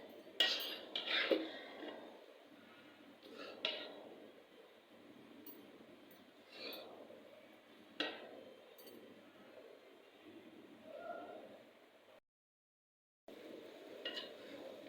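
Niyaz ingredients stirred together in a metal pot, with repeated faint clinks and scrapes of a spoon against the sides, spaced irregularly and heard alone at moderate distance.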